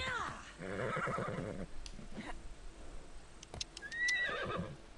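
A horse in the video game Assassin's Creed Odyssey whinnies in a rising, shaky neigh, followed by scattered clops and game sound effects, then another high squeal near the end.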